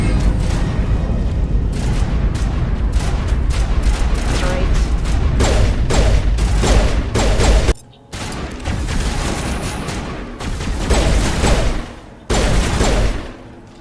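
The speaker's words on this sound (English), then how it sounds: "Who's shooting?" Sustained, dense gunfire and booming blasts from a Mass Effect 1 battle roar loudly almost without pause, broken by a brief drop near the end before the barrage resumes.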